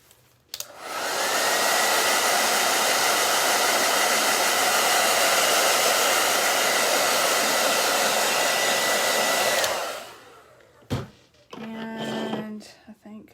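A hair dryer blows loud and steady for about nine seconds, drying paint on a pumpkin shelf sitter, then cuts off, followed by brief handling clatter.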